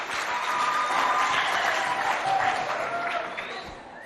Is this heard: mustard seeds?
no